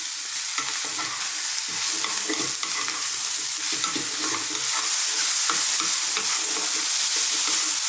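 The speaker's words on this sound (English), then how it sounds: "So beautifully dry fry, as you can see in the pan" Mushrooms and potatoes dry fry in a pan with a steady sizzle, and a spoon stirs and scrapes through them in repeated soft strokes.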